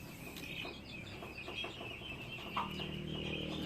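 Three Brahma chickens cluck softly in a backyard pen, a run of short irregular clucks with faint chirps behind, close but quiet, no talking.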